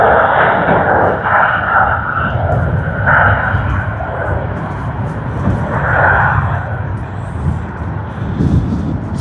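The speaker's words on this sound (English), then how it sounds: "the takeoff roll should begin" Qantas QF27 airliner bound for Santiago starting its takeoff roll at Sydney Airport, a loud, steady jet engine roar that holds throughout with slight surges, heard from near the runway with no voices.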